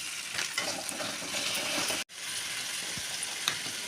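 Chicken spices (chili, coriander and cumin powder) fry in a pan while being stirred, a dense sizzle with scraping strokes and one brief cut in the sound partway through.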